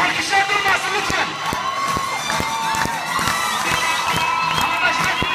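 A crowd of students cheers, whoops and shouts with scattered clapping, a dense, loud, continuous roar of young voices that holds steady throughout.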